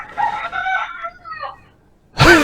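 A rooster-like crow rises and falls over about a second and a half, close and loud; it may be a person imitating it, followed by a sudden thump.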